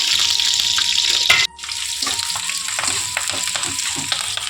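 Onions, green chillies and curry leaves frying in a pan, a bright steady sizzle that drops suddenly and resumes quieter with light stirring clicks, close up.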